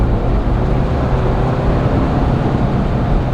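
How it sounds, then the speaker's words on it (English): Low, steady engine drone from a 2022 Ford Bronco in sport mode, heard from inside the cabin on a winding road as a constant rumble with road noise and no talking. "when I put it into sport mode, you're hearing all engine noise"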